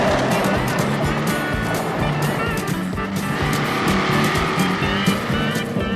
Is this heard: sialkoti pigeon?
no